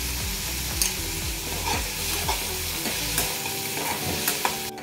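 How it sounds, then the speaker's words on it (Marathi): Salted onion frying in a pan, sizzling steadily up close while a spatula scrapes and turns it in a quick, regular rhythm, no voices. "तो कांदा आता मी ह्यात टाकत आहे. तो मस्त लाल होतपर्यंत आपल्याला परतून घ्यायचा आहे"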